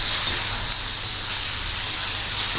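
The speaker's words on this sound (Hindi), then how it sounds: "तो दर्शकों प्याज तो हमारी भुन रही है और साथ ही साथ हमने थोड़ा अदरक टेस्ट के लिए थोड़े से करी पत्ते भी डाले हैं" Onions with ginger and curry leaves fry in a pan, giving a steady, even sizzling hiss throughout, moderately loud and close, with no voices.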